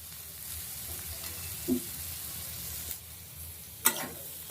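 Boiled chickpeas are stirred and dry-fried in a pan, giving a soft, low hiss. A few scattered spatula taps and scrapes break through, including a sharper scrape near the end.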